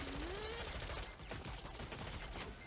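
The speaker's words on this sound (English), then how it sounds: "when I hit A, that is going to be my, basically my super shot" A Gunslinger's super shot in Lost Ark during a hard-mode Aquilok dungeon boss fight: a rapid burst of gunfire crackle under game music, fairly quiet overall with a rising tonal sweep at the start.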